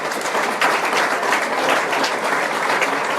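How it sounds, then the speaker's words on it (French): An audience applauds at a live inauguration in Toulouse, with dense, steady clapping from many hands throughout, loud and continuous. "On les applaudit s'il vous plaît."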